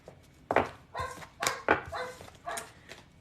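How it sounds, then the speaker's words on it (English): Several short, loud dog barks burst out in an irregular run, close to the listener and excited, with no speech over them. "The dog's going crazy"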